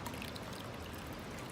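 Activated yeast for mead is poured into a 2-liter container, a steady soft trickling stream running throughout at low level.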